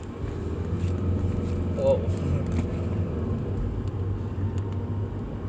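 A Wuling Cortez 1.5 turbo CVT family car's engine gives a low, steady rumble from inside the cabin while a person exclaims over it.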